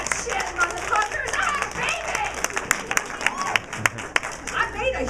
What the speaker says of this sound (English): Clap for that shit, motherfuckers!